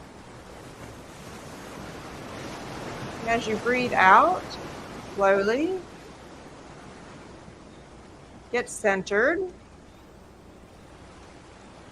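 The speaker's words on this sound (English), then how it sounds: "enjoy the ocean sounds" Steady ocean surf wash rolls on continuously in the background, soft and even. A calm voice speaks over it at intervals, guiding slow breathing.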